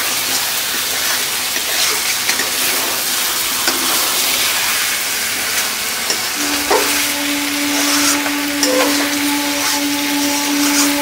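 Chicken kosha made with deshi murgi sautéing in a pan, a loud, steady close sizzle with bright hissing and a few scraping stirs, sustained without pause.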